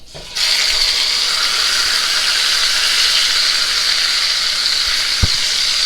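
Pot roast meat sears in a hot pan, opening with a sudden loud hiss as it hits the surface, then settling into a strong, steady close sizzle, with a single soft knock near the end.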